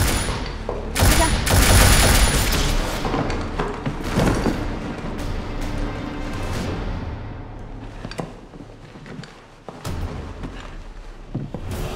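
A game-style action scene carries a loud burst of rapid gunfire that rings out for a couple of seconds. Scattered shots, thuds and rumbling impacts follow, close and sharp against a busy background.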